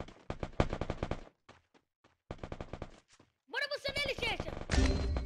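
Rapid automatic gunfire in a shooter video game rattles out in dense bursts separated by short pauses, loud and close, with excited voices talking over part of it.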